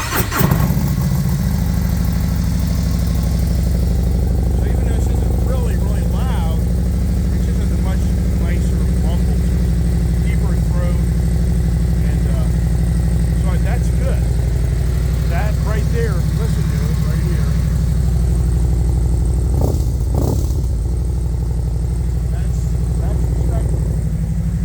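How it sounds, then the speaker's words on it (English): A motorcycle fitted with Chromeworks slip-on mufflers starts up and settles into a loud, steady, rumbling idle close by, with a few small blips in revs. Someone talks over it throughout. "let's start this up because I put new Chromeworks slip-on mufflers"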